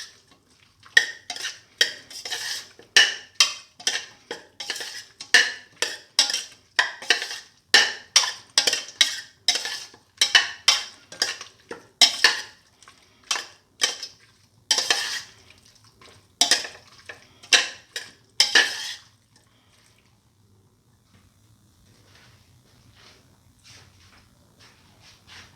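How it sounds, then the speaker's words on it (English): Salt being stirred into chicken necks and fenugreek leaves in a pot: about twenty close, rhythmic scraping strokes of a spoon against metal, then a near-silent pause at the end, with no voices. "Keep on mixing."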